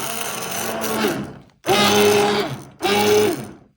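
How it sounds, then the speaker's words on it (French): A blender purées a salad velouté soup in three bursts, the motor whirring steadily, stopping briefly, then running again loud and close with no talk. "on va arrêter la cuisson et on va mixer tout ça"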